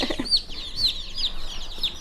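Light Brahma chicks, a feather-footed chicken breed, peep in a run of high, sweeping chirps, four or five clear calls spaced across two seconds, close and without talk.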